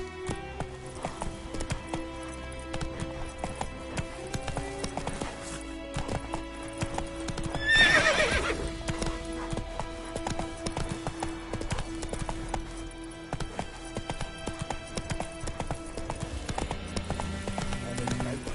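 Roach the horse in the video game Witcher 3, rhythmic hoofbeats galloping under background game music, with a loud neigh partway through.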